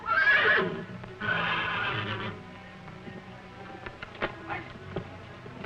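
A bay horse neighs loudly twice in quick succession, followed by quieter shuffling and faint hoof sounds.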